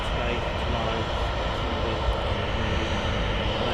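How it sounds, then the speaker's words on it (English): Ryanair Boeing 737 arriving at Manchester Airport, a steady loud roar of aircraft engines running through the whole stretch with no clear change, heard outdoors and close. "Ryanair 737 just arrived here at Manchester."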